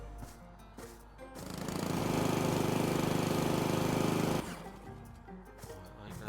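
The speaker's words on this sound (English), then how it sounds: "I'm going to leave the lawnmower there." A garden lawnmower engine roars up to a loud, steady drone for a couple of seconds, then cuts off abruptly, leaving quieter clattering and handling sounds around it.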